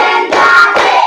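A class group claps along in an icebreaker counting game, a few crisp, close, loud hand claps in quick rhythmic succession.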